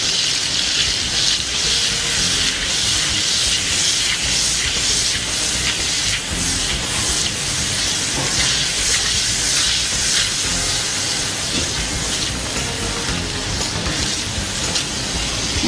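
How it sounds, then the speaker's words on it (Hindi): Vegetables for pav bhaji boil in a pan with a steady, loud bubbling hiss that runs continuously, close up and without speech. "यहाँ पे हम सब्ज़ी को थोड़ा बॉईल होने देंगे ताकि ये बहुत अच्छे से बॉईल हो जाए।"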